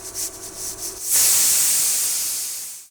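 A pressure cooker whistle: a loud, steady hiss of escaping steam bursts in after a second of quieter noise and holds until it cuts off abruptly near the end.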